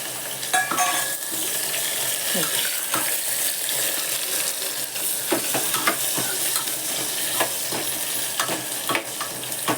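Onion and bay leaf sauté in a pan, a continuous close sizzle broken by frequent sharp stirring clicks and scrapes.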